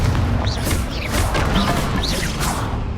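A Confringo fire spell blasting in Hogwarts Legacy, a steady roaring burst with whooshing flares and crackling impacts throughout, loud and close, with no voice.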